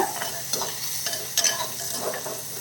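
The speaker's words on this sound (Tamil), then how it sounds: "இந்த வெங்காயம் கொஞ்சம் வதங்கட்டும்" Onions sautéing in a pan for an anchovy fish curry, close sizzling broken by quick scraping stirs and a few sharp clinks of the spatula, with no speech.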